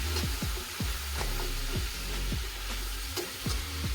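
Chili powder stirred in a frying pan for spicy Jaffna-style sundal, a steady sizzle broken by regular scraping strokes of the spoon against the pan, close and alone with no talk.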